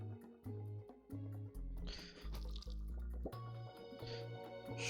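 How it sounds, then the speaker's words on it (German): Plinky, game-style watering sounds from Turnip Boy Commits Tax Evasion, with plants being watered through a fence, come as quick repeated drips and splashes in an even rhythm over a looping tonal background melody. "Wusstest du, dass man durch Zäune gießen kann?"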